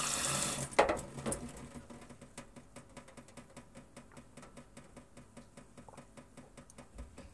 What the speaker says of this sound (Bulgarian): Ще я пълня от чешма.